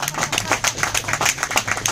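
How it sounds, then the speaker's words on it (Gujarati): An audience at a sales meeting in Ahmedabad claps together, a quick, rhythmic run of many hands striking in steady bursts, fairly loud and close, with no voices over it. "તાળીઓ પાડો, જેના આવે છે એ જ પાડે છે"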